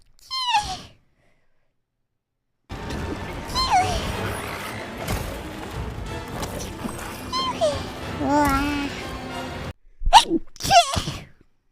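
A woman sneezes several times, sometimes in quick pairs and sometimes alone, with a child-like voice talking and laughing between the sneezes and some background noise.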